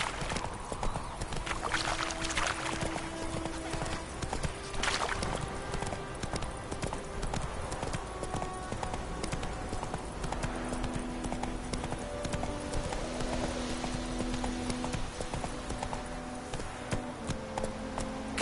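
Roach, a horse in The Witcher 3, trots with steady clip-clopping hooves throughout, set against a game's music and ambient background.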